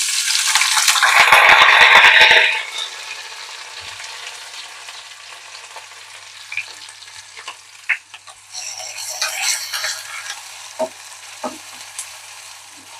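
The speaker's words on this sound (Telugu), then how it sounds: "ఇప్పుడు తరిగి పెట్టుకున్న ఉల్లిపాయ ముక్కలు కరివేపాకు వేసేద్దాం" Chopped onion and curry leaves hit hot oil in a loud, bright burst of crackling that settles into a quieter, steady fry, broken later by scattered scrapes and taps of a spoon in the pan.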